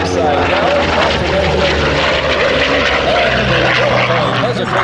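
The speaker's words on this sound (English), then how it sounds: "He stops the airplane 4 distinct times through 360 degrees of rotation there." An aerobatic propeller airplane performs hesitation rolls at a 2012 airshow, its engine droning loudly and steadily overhead while a commentator talks over it.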